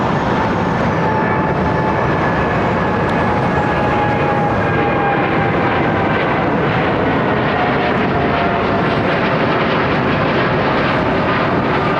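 An Airbus A330neo jet climbs out overhead from Heathrow runway 09R, a loud, continuous, broad roar with whining engine tones that fills the whole stretch without pause.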